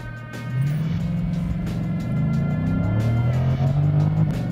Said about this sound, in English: Foot on the brake, hit the traction control button off once, launch control enabled, full throttle.